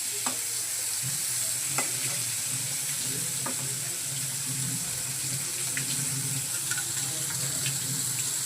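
Bitter gourd pieces coated with turmeric fry in hot oil in a wok, producing a continuous hissing sizzle with occasional light clinks of stirring, steady and moderately close with no voices.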